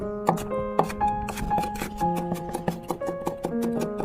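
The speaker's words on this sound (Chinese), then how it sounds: "再准备3瓣大蒜，先切片，再切成蒜末" Kitchen knife on a cutting board slicing then mincing three garlic cloves, a quick run of sharp crisp taps with uneven rhythm, close and clear with no voices.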